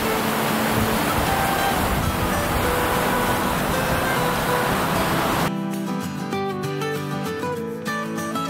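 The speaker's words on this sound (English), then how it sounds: "We're right on the river here." Broad, steady rushing of a river in the Rocky Mountains flows loud and close for about five seconds, then gives way to a sparser, tonal texture for the rest.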